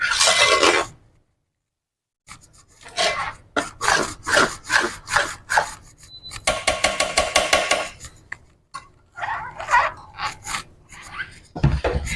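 A ladle scrapes and stirs a thick besan barfi mixture in a pan, giving repeated close rubbing, scraping strokes with short pauses and no talking.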